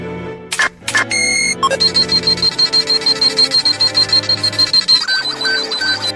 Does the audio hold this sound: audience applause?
no